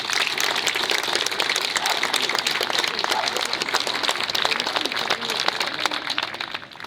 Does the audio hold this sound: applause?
yes